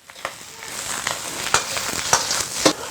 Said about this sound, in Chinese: 来一点纯菜籽油，下牛排骨， 先用大火爆炒